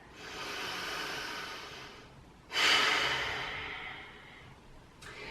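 Slow, audible breaths during a guided mindfulness session, with a long breathy exhale, then a louder, sharper breath that fades out and a brief breath at the end. No talk is heard.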